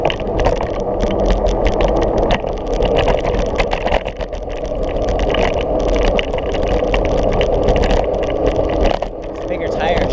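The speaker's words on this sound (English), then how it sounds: "Super quiet, but it's smooth. Here's some bumps." A Momas E-Scooter 1.0 rolling over bumps and pavement cracks on its bigger tires, a steady rumbling ride noise with rattles, close and continuous.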